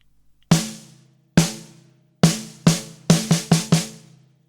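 Snare drum fill, played alone up close: two slow, spaced hits, then a quicker run of five sharp cracks, each ringing briefly.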